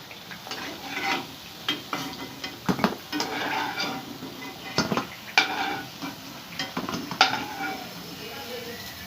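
Sweet mathri frying in hot oil and being lifted out one by one, with a steady sizzle under scattered scrapes and clinks of a slotted spoon against the pan, and brief quiet talk.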